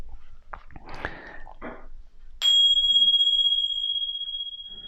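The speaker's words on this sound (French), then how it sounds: "Après le son de la cloche, parce que j'aime bien ma petite cloche, elle me permet de me recentrer." A small meditation bell is struck once and rings out clearly, its pure tone sustaining and slowly fading after some brief rustling and mouth sounds.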